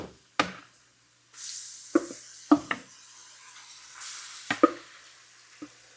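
Vegetables dropped into hot roux in an Instant Pot sizzle in a steady hiss, punctuated by several sharp knocks and clatters of a spoon against the pot.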